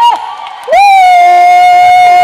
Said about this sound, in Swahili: Hebu simameni makofi na vigelegele